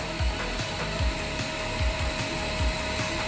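A vacuum cleaner roars steadily nearby, drawing air out of a clothes-style vacuum sack laid over a carbon fibre car bonnet, with faint rhythmic thumps under the constant whooshing drone.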